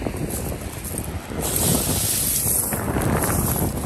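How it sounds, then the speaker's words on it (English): Wind buffets the microphone in a steady, loud roar on a shell-collecting beach, swelling and growing stronger partway through, with no voices heard. "Oh, it's getting windy."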